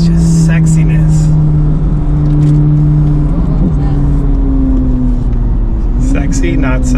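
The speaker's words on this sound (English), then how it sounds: "Ooh, that flat plane crank V8." A 670 hp Corvette C8 Z06 flat-plane-crank V8 hums loudly at a steady pitch, shifting tone as it revs, with voices faintly audible over the constant rumble.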